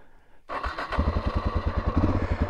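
A Suzuki DRZ motorcycle engine cranks and catches after a quiet moment, then settles into a loud, rhythmic thumping idle close to the microphone on a desert trail.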